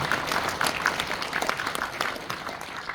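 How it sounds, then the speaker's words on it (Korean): Church elders receive dense, steady applause from an audience at a national elders' association general assembly, many hands clapping continuously throughout at a moderate, even level. "일어났으면 인사드리면 박수해 주시기 바랍니다."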